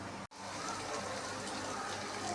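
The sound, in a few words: pouring water into curry pot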